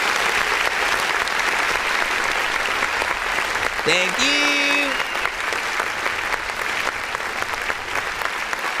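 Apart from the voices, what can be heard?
applause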